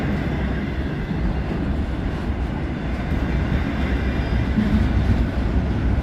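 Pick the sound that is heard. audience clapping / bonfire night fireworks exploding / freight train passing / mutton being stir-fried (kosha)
freight train passing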